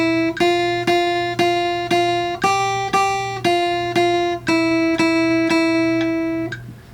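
Guitar notes ring out one per beat at 117 BPM, played in time with a metronome click: about ten evenly spaced, clear plucked tones with occasional pitch changes, each decaying before the next, played alone without talk.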